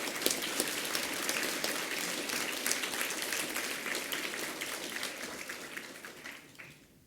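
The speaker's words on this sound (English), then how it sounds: "Can we please give them a round of applause?" Sustained applause from an audience at a school assembly, dense clapping that stays loud and steady for several seconds before fading at the end.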